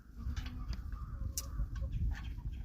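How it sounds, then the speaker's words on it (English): Chickens in a backyard coop run with roosters and hens, clucking and squawking in short scattered calls, fairly close and soft, with a brief sharper cry midway. "We have 27 chickens total. We have 2 roosters, 25 hens."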